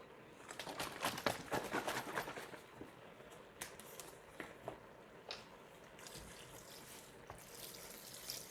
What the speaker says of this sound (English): And then we add our chicken broth.